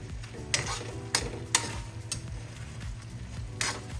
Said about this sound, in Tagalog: Haluin na po natin mga kayami.